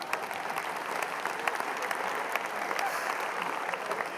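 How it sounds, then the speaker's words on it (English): An audience applauds steadily, a dense crackle of many hands clapping at close range for several seconds. "Give them a round of applause."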